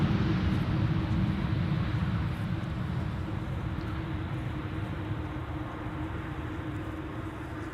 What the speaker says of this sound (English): Another Embraer 190 coming in from Chester